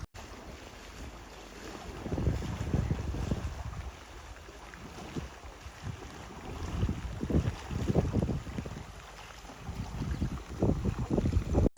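The flooded Indrayani River rushes past a bridge during heavy rain with a deep, continuous roar, while gusts of wind buffet the microphone in uneven bursts.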